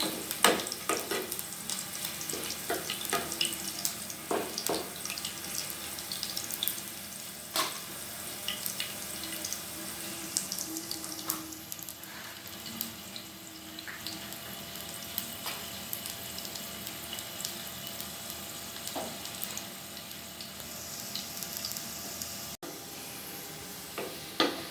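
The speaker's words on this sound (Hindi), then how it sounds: "लहसुन को ब्राउन करना है।" Steady low sizzling of garlic browning in oil, with occasional clinks and stirring, continuous and close, no talking.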